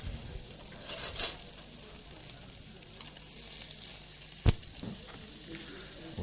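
Rabbit saddles searing in butter in a pan give a steady, fairly quiet sizzle throughout, with a brief clatter and one sharp knock partway through.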